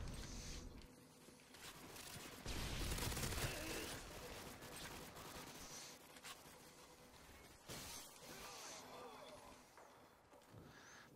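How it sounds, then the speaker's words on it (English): Video game gunfire aimed at the player, with bursts and a loud sustained volley of shots around the middle, distant-sounding and quiet overall, mixed with other game noise. "someone's shooting at me"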